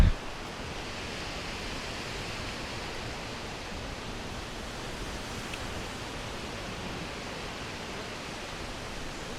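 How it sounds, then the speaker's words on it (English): Strong, constant wind roars across the whole stretch at Picacho Peak State Park, a dense rushing noise buffeting close by with no talking. "Lovely wind."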